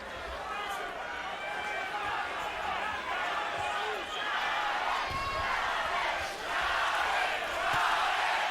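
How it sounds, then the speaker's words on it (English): A boxing arena crowd rises into rhythmic chanting of a fighter's name, with a roaring, echoing swell of voices heard under close commentary talk. "We have the crowd beginning to chant Chavez, Chavez."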